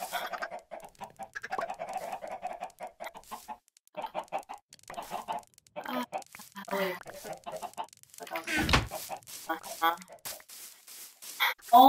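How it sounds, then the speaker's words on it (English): Chickens in the Minecraft video game cluck in short repeated bursts, mixed with game sounds, while people talk excitedly over them. "Oh my god, the chicken."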